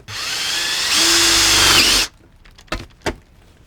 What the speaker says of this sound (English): I've engineered a bit of a drill press setup